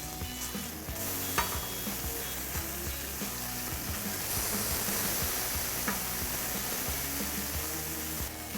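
Burger patties sizzle loudly and steadily on a hot griddle right after being flipped, a continuous close, dense frying hiss with a brief scrape near the start.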